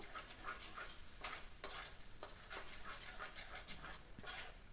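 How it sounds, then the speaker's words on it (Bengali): Banana peel paste being stirred with salt in a pan, faint soft scrapes and light clicks repeating over a quiet frying hiss. "লবণটা দিয়ে এটাকে আবার আমি নাড়বো"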